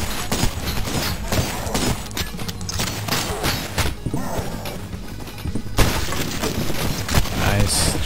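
Shotgun blasts in the game Cultic shattering enemy shields, a run of loud crashing, smashing impacts and breaking sounds packed closely together, with a voice talking over them.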